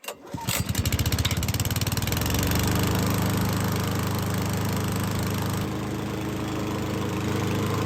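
A Toro 21-inch commercial walk-behind lawn mower engine starts up and settles into a steady, loud running drone that stays constant throughout, with a slight drop in pitch near the end.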